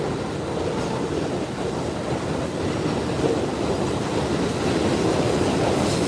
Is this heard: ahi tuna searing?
no